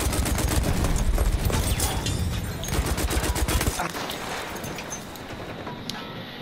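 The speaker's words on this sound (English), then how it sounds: "The Hewitt automatic is basically a copy of the Lewis gun" Hewitt automatic machine gun, a Lewis gun copy, firing in Battlefield 1 as a loud, rapid sustained burst of gunfire over dense battle noise, easing off midway into quieter distant shots and ambience, with faint talk underneath.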